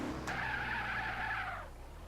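A steady, high video-game tire screech holds for over a second and then fades, over a low engine drone.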